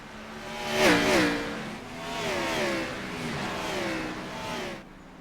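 Race cars at Lakeland during a Prestige Cup Series race, engines rising and falling in pitch as several cars rev through and past, a continuous loud mid-range roar that swells near the start and fades out at the end.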